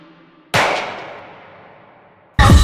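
A single sharp gunshot effect struck in a song, a loud crack with a long decaying tail that fades over about two seconds before another hard hit cuts in.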